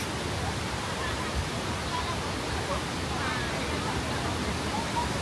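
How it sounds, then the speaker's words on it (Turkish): Kuang Si waterfall near Luang Prabang, Laos, roaring in a steady, loud broadband rush of falling water that fills the scene without a break, with faint crowd murmur mixed in. "Ve Guangxi şelalesi şöyle başlıyor."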